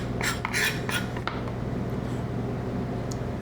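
Lettuce scooped into a bowl in a home kitchen: a short burst of close crisp rustles and light clinks against the bowl, then quiet with a low steady hum.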